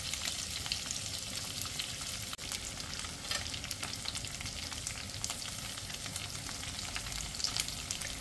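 Cabanos sausage frying in a pan gives a steady, close crackling sizzle with sharp spits and pops throughout, loud and continuous with no talk.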